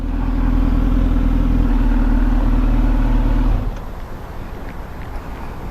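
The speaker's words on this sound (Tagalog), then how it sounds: "Ang motor ni Brother Jonathan." Brother Jonathan's motorcycle engine rumbles loud and close in a steady, droning roar, then drops away sharply partway through to a quieter, rougher background of road noise.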